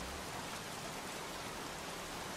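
Steady heavy rainfall in the video game Heavy Rain, a dense, even hiss of drops hitting surfaces that fills the short stretch without a break or any voices.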